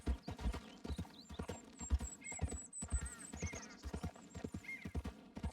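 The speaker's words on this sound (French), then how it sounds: "Ça, c'est un des chevaux que j'achèterai." Horse hooves clip-clop steadily in a video game, with repeated close hoof hits and a few whinnies sounding over a busy background.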